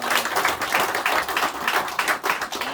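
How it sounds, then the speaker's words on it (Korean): A church congregation claps at an Easter Sunday service, a dense, fairly close round of applause with slightly uneven pulses throughout. "함께 영광의 박수로 올려드리겠습니다"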